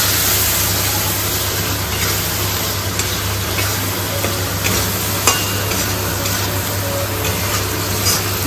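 Spices are stir-fried together in a pan, a continuous broad hiss with scattered scraping knocks and a steady low hum throughout, fairly loud and close.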